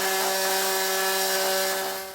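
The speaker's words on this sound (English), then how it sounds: "I did end up using a multi-tool to go ahead and cut this" An oscillating multi-tool cuts through the metal heat shield under a 2015 Mini Cooper during a Curt Class I trailer hitch install, giving a loud, steady, close buzzing whine that holds throughout and tapers slightly at the end.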